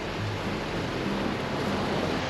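Sea waves at Sai Kaew beach in Sattahip, heard as a steady, loud wash of surf close by with no talking.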